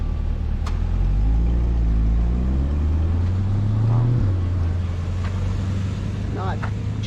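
A car passes on the road at Hoover Dam near the Arizona state line, its engine and tire noise swelling and then falling away in a clear pitch drop, under steady wind.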